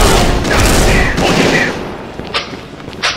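Gunfire from a slow-firing but accurate rifle in the video game XSHOT, a dense burst of loud shots in the first half followed by a couple of sharper isolated cracks.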